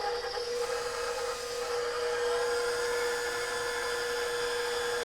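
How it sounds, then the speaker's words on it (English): An electric mixer on a low setting whisks a cinnamon roll filling of melted butter and ground cinnamon, a steady close high-pitched motor whir that runs unbroken and alone before cutting off at the end. "Just gonna whisk it on low."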